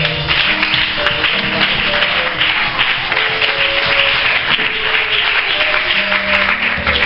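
A church congregation applauds together in a steady, dense wash of clapping that holds for several seconds, with faint sustained musical tones underneath.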